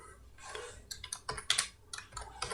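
Keys clatter on a computer keyboard as text is typed into a PowerPoint slide, a close run of uneven clicks in short bursts with no voices.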